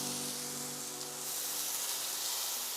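Salmon fillets laid into a smoking-hot pan with olive oil give a steady, fairly quiet hiss and sizzle that grows slightly fuller after a second, with no talking.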